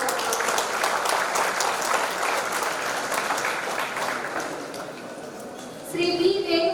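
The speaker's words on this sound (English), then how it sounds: "So big round of applause" Audience applause at an Independence Day celebration, a dense continuous round of clapping from a large crowd that fades slightly before a voice begins speaking near the end.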